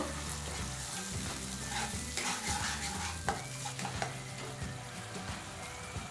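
Water goes into a sizzling Chicken 65 masala of tomato sauce, sugar and salt in a pan. A continuous bubbling sizzle mixes with stirring scrapes and soft utensil knocks, with no talk.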